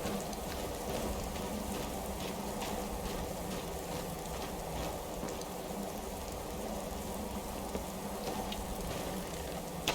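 Steady rain falling in the mountains of the video game Skyrim, a dense, even patter on the ground that continues throughout, with no voices over it.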